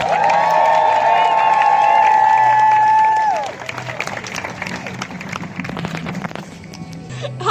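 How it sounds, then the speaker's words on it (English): Outdoor crowd applause and cheering for a speaker at a youth climate rally, following a loud sustained tone in the first half, then scattered clapping and crowd noise continuing at moderate level. "Everyone give Reggie a round of applause."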